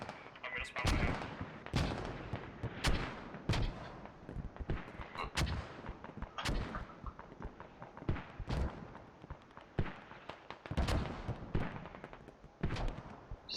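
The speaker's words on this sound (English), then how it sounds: "Bradley shooting some long range engagement shots over towards the middle." A Bradley armored vehicle fires long-range shots in the Squad video game: repeated sharp, booming reports at an uneven pace over a busy battle rumble, with scattered voices under the fire.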